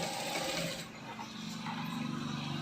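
Sewing machine running steadily while stitching a katori blouse along its curved section, a close, continuous mechanical whir with a fast needle rhythm and a brief dip in speed midway.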